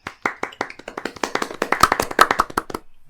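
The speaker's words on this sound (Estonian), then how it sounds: "Väike aplaus." A short burst of applause from a small group, a couple dozen sharp claps building quickly then tapering off, close and clear with no talking.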